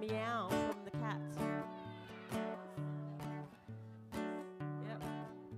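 A live gig audience imitates cat meows together, a crowd of voices mewing in a string of rising calls over sustained guitar and band chords at steady volume.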